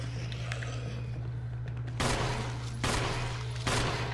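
Gunfire from the Resident Evil video game, with three loud, sharp bursts of shots a second or so apart. They rise over a low, steady game background hum, and no one speaks during them.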